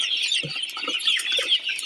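Sonali chickens in a poultry shed cluck and chirp continuously as a busy flock, close by and fairly loud, with no talking.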